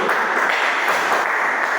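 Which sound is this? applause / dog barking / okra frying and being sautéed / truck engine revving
applause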